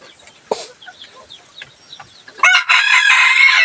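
Chickens cluck softly in the background on a rural farm before a rooster lets out a loud, sustained crow nearby.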